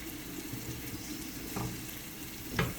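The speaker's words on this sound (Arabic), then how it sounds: "نوصل البصل يتسكح مع الزيت" Chopped onion sizzles softly in hot oil in a pan, a steady quiet frying hiss with a couple of faint clinks from stirring.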